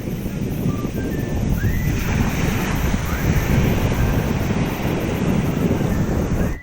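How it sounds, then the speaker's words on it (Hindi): Steady roar of high ocean surf crashing onto the shore along the Somnath route, with wind buffeting the microphone throughout; no voices, continuous and loud. "देखिए कितनी ऊंची ऊंची लहरें"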